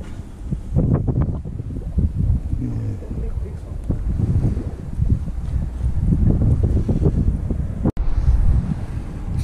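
Strong wind buffeting the microphone outdoors at the site of an 1889 gunpowder magazine, gusty low rumbling that rises and falls throughout, with a brief dropout near the end.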